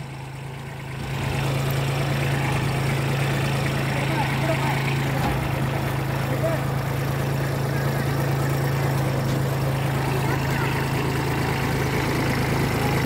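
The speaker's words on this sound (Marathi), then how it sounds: "हा ट्रॅक्टर आभी चालवत आहे" A Kubota B2441 compact tractor engine runs at a steady idle-like drone, rising in the first second and then holding a constant low hum.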